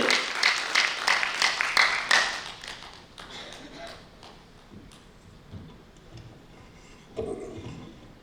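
Applause rises from the audience at a Hindi poetry recital (kavi sammelan) in New Delhi, strongest over the first few seconds as a burst of claps, then thinning to a few scattered claps and background murmur.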